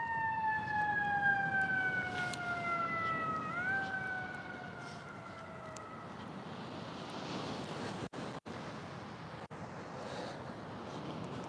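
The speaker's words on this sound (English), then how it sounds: "let's wait for that siren to go by." A wailing siren sweeps past in the first few seconds, its pitch dropping as it recedes, then fades into steady outdoor wind and surf-like rumble.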